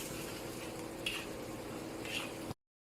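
Spice paste for vegetarian Melaka-style rendang fries in a pan with a steady close sizzle and occasional scraping stirs, then cuts off abruptly.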